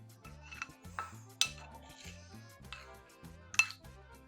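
Spoon clinking against a bowl while a homemade face pack is mixed into curd, with a run of soft scraping taps and two sharper clinks, close and alone.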